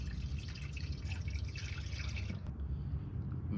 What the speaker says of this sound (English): We will fill the tank with water till the motor is fully immersed.